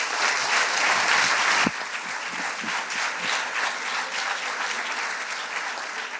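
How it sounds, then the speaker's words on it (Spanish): A church conference audience applauds: dense, sustained clapping fills the hall, easing to a lighter, steady patter. "Un aplauso."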